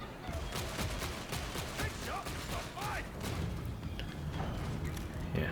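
Las weapon fire in Warhammer 40000: Darktide video game, a fairly quiet run of zapping shots with whining energy tones over a busy combat din, with faint voices in the mix.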